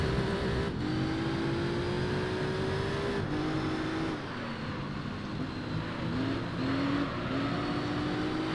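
A Tuscan race car of roughly 415 horsepower in Gran Turismo 3 drones steadily and loudly throughout, its engine pitch climbing and dropping with gear shifts and throttle changes, with no talking.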